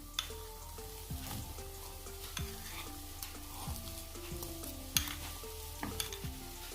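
Spice powders fry in a pan for Malabar kilikood snacks, a soft steady sizzle under repeated scraping and tapping of a spoon against the pan, with one sharper knock midway.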